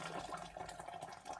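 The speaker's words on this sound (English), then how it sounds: "Just gonna pour in a little bit of hot water" Hot water poured into a vase, a soft continuous splashing trickle, faint and close, alone without talk.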